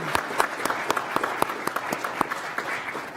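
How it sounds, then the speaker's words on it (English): Scattered audience applause at a college governing board meeting, a few distinct hands clapping in an uneven rhythm, moderately close and brief. "So let's give them a round of applause as well."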